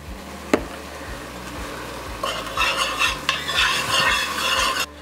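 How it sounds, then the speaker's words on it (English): Vegetables sautéing with Creole seasoning in a pan, a steady sizzle with rhythmic scraping and stirring strokes of a utensil that grow louder partway through, close up with no speech. "We're gonna go ahead and saute this for about 5 more minutes, get those veggies nice and soft"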